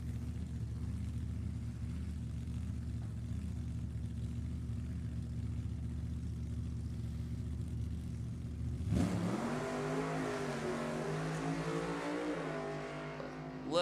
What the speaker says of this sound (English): Little bit of tire shake for Weasel, had to pedal it.